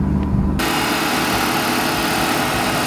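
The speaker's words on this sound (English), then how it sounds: "Oh, it sounds like it's idling okay." A Mazda RX-7 FD rotary engine idles up close, starting abruptly and then holding a loud, steady, buzzy running note with no change in revs.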